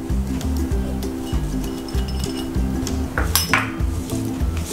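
Alu Vadi batter being stirred with lemon juice and coriander in a bowl, a steady run of scraping and clinking utensil strokes against the dish, close and fairly loud, with no talking.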